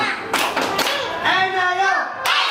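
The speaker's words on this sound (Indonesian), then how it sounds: "Kalau kau suka hati tepuk tangan." A group claps hands along with a sung children's song: a few sharp, loud claps punctuate voices singing together.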